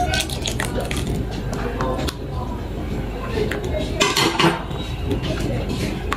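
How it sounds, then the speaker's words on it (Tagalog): Kutsinta batter mixed with lye water stirred steadily in a bowl, producing continuous scraping with frequent light clinks of utensil against the bowl, close and moderately loud. "Haluin na natin maigi guys hanggang sa mawala yung mga lumps niya"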